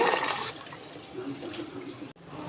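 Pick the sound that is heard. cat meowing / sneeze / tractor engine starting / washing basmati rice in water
washing basmati rice in water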